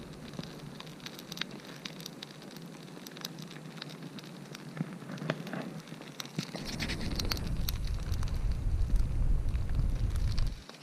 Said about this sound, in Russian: Сейчас будем разжигать наш костер, печку.